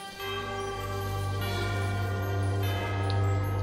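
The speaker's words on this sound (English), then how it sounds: "Carol of Bells." Carol of the Bells plays in the Batman: Arkham Origins PC game, a sustained orchestral passage with steady held tones and a low drone that swells slightly, heard alone without voices.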